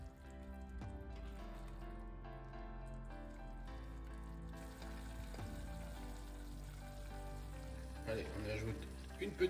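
White wine heated to a boil in a pan for a charcutière sauce to go with pork chops, a soft continuous sizzle and bubbling with faint stirring, quiet and close, under low background music.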